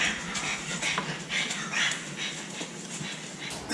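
Dogs whimper and pant nearby in a home kitchen, with soft whines and quick breathy pants coming in short irregular bursts at low volume.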